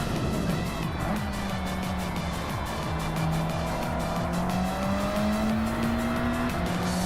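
A Nissan S14 in a racing video game revs hard and shifts gears through a drawn-out run, its engine note climbing steadily, loud and close, with tire squeal along the way.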